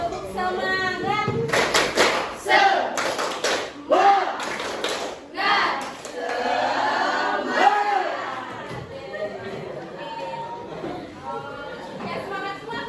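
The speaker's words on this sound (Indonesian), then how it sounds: "Tepuk semangat" Classroom children chant together and clap in a quick rhythmic spirit-clap pattern, loud bursts of claps in bunched groups mixed with lively young voices.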